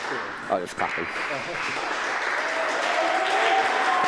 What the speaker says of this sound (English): Oh, it's clapping.